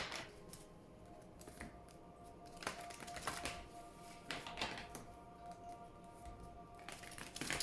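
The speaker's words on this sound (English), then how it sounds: "Please think of your question as I shuffle the cards." Tarot cards are shuffled in short bursts of crisp riffling and tapping, up close and fairly quiet, with small pauses between bursts.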